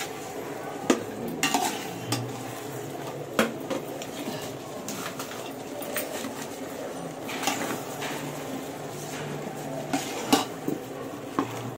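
Marinated chicken with added salt stirred in a pot for a Hyderabadi dum biryani: a spoon scrapes and clanks against the metal in irregular knocks over a faint background hum, with no talk.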